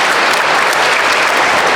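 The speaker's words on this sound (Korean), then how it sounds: "오래간만에 박수 한번 받아보세요." Applause from a congregation at Mass in a Catholic parish church, honouring a priest's mother: steady, dense clapping that fills the whole short stretch at even strength, with no voices over it.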